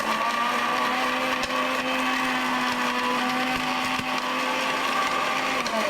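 A mixer grinder runs steadily while grinding spices, a loud, continuous motor whine with rattling from the blade and the ground spice, unbroken throughout and with no talk.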